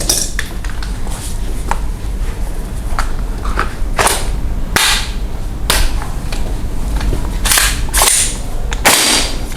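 A toy gas-powered Steyr replica gun firing a series of sharp snapping shots, some in quick bursts, loud and close with metallic clicks between them.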